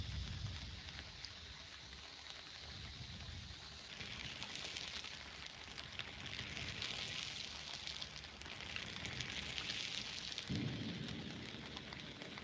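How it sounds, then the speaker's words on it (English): Steady summer rain hisses continuously, with low rumbles of thunder swelling in the background, no voices over it. "we want to kind of enlarge these sound effect, like the summer rain"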